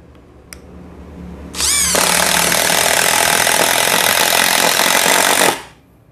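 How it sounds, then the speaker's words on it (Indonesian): A VRILL impact driver set to speed 3 drives a screw, its motor spinning up with a rising whine and then hammering in a loud, steady buzz for about four seconds before cutting off. "Kita akan coba untuk penyekrupan Frill Impact Driver Speed 3."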